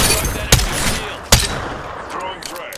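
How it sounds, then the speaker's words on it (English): Video game gunfire: two loud, sharp shots roughly a second apart ring out over a dense, continuous wash of battle noise, which thins toward the end. "Being shot at."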